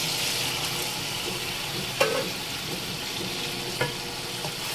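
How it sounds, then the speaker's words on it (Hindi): Soaked, drained rice is stirred and fried in potato pulao masala, a moderate steady sizzle with two sharp spoon clinks against the pot and soft scraping. "चावलों को आपको इस मसाले के साथ थोड़ा सा भूनना है या चलाना है"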